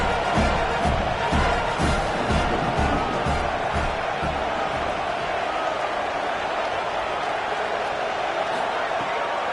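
Stadium crowd roars steadily in a Madden football video game, a dense, loud wall of cheering with some low rhythmic thumps early on, running throughout the game broadcast.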